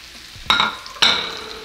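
Onion and chorizo land in a pan of frying bacon, giving two sharp bursts of sizzle a half second apart, each flaring loudly up close and then easing into a steady hiss.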